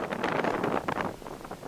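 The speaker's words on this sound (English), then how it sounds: "It's a really windy day." Wind gusts batter the microphone on the Kerry cliffs in Ireland, a faint, rough rumbling roar that buffets unevenly for a moment, with no voices.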